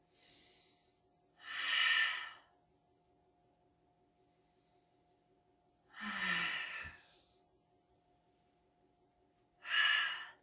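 Three deep, forceful breaths during a yoga flow for thoracic outlet syndrome, each a loud, airy rush spaced a few seconds apart, with near silence between them.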